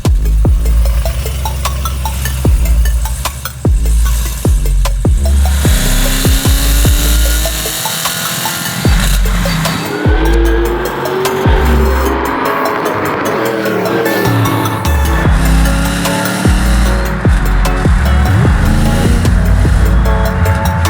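A garage-built 755 hp LT5-powered 1967 Chevy Camaro restomod drives along, its engine loud and close with a deep rumble, several rising and falling revs and rattling clatter throughout.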